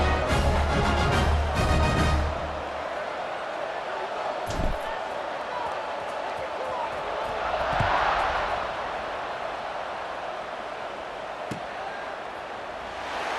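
Stadium crowd noise at kickoff in EA Sports College Football 26, a broad steady roar of cheering fans with a louder swell midway, running under continuous play-by-play commentary.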